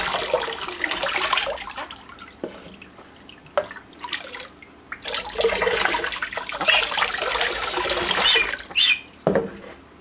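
Water splashes and drips during a baby's bath indoors, with irregular sloshing, trickling and small plops, close and moderately loud, in uneven bursts over about ten seconds.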